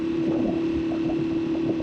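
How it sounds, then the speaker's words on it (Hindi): Wind roars steadily through a mesh biker jacket while a motorbike rides along, a constant rushing noise with a low engine drone beneath it. "और हवा डायरेक्ट जाली में से लग रही है"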